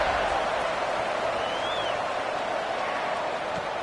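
Stadium crowd in a college football video game, a broad steady roar of cheering spectators filling the background at constant loudness, with no distinct voices standing out.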